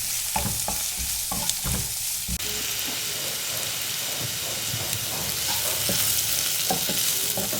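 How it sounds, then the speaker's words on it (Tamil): Beans and carrots with chili and ginger sauté in a hot pan, a continuous close sizzle broken by repeated scraping and clinking stirs of a utensil, with no voices. "பீன்ஸு, கேரட்டு எல்லாமே ஒட்டுக்காவே சேர்த்து நல்லா கிளறி விட்டுக்கலாம். நல்லா வதக்கி எடுத்துக்கணும்."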